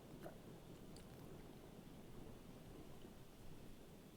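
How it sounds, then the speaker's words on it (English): Faint rain hits everywhere outside, a low continuous rumble and wash with a few tiny drop ticks, heard quietly throughout. "it's not the mic, it's the rain hitting everywhere."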